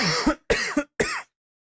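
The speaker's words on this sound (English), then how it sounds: "It's just a bad cough." Three quick, harsh coughs close up, the first two run together and the third follows after a short gap, then silence.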